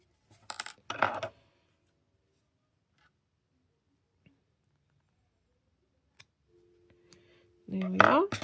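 Scissors snipping yarn while making handmade Yorkshire buttons, a few short sharp cuts close by in near silence, followed later by a brief burst of talking.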